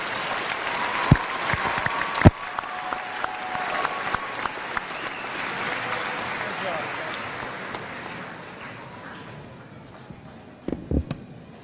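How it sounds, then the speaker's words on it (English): An audience at a University of Arkansas Fort Smith fall commencement applauds the College of Education graduates, a sustained round of clapping from a large crowd with a few sharp louder claps early on, slowly fading toward the end. "Please, would you join me in giving a round of applause for the graduates from the College of Education?"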